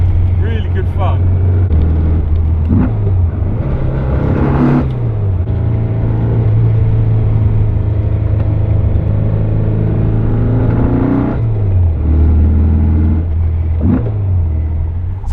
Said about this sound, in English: The more I'm driving it, the more I want to push it harder and harder